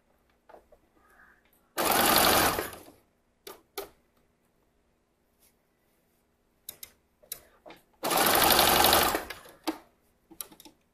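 A sewing machine basting layers of swimwear fabric together before elastic is added, running in two loud bursts of roughly a second each, with quieter handling clicks and taps in the pauses between.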